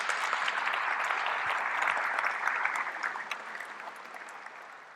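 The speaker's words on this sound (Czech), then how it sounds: "Taky tohle docela chce váš potlesk." Concert audience applauding at a post-concert meeting with the performers, a dense, moderately distant clapping that swells and then gradually fades.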